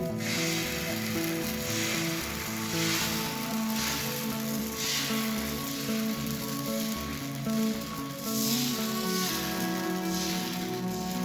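Rice-flour batter for Bengali sorucakli sizzles steadily on a hot pan as a ladleful is spread out, with a continuous crackling hiss and a regular mechanical ticking underneath, and no voices.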